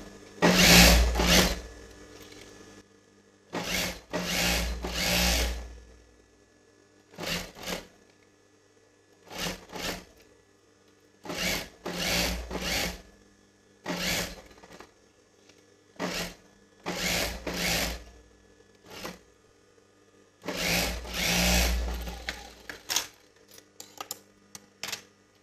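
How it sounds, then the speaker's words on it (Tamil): A sewing machine stitches along a chudidar neckline in several short, loud runs of rapid mechanical stitching with quiet pauses between them, heard up close and alone. "இப்போ மேலே தையல் போட்டுக்கிட்டு வரேன்"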